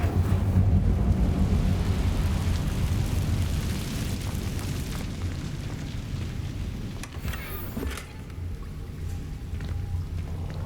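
The Incendio fire spell cast in Hogwarts Legacy, a dense, roaring burst of flame with a deep rumble that fills the scene and slowly eases off, with a few crackles near the end.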